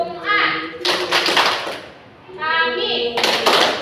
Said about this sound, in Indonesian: Kalau Ibu bilang Jumat, tepuk tangan 3 kali.